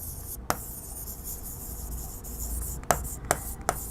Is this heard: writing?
yes